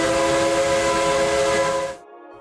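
A steam-style train whistle sounds in a VR zombie shooter game, one long sustained tonal blast over rumbling rail noise that cuts off sharply near the end, leaving a faint fading tone.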